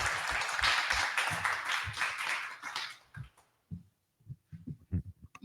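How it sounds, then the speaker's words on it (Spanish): An audience at a panel on gender violence and women's challenges claps loudly and steadily for a speaker, the dense applause fading out after about three seconds into a few scattered claps. "Un fuerte aplauso para ella."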